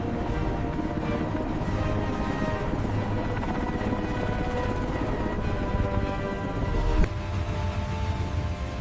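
HL-50 heavy-lift helicopter hovering with a slung load, a dense, continuous rotor and engine roar that holds steady and loud throughout, with a brief thump near the end.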